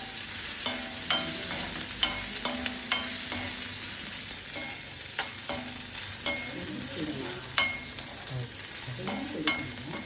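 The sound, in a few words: onion, ginger and garlic being sautéed until brown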